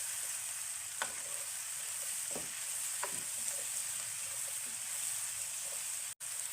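Mixed vegetables being stir-fried with salt in a pan for Mumbai-style pasta taka tak give a steady, close sizzle, broken by a few sharp spatula scrapes and stirring strokes.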